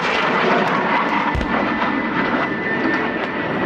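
Loud roaring Sea King helicopter engines rumble overhead continuously at an air show, a dense churning drone with a brief low thump partway through.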